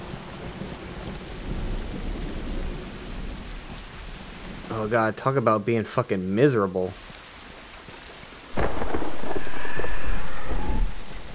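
Heavy rain pours steadily with deep thunder rumbling, a person speaking briefly in the middle, and a loud thunderous roar building near the end; rain and thunder in the video game The Last of Us Remastered.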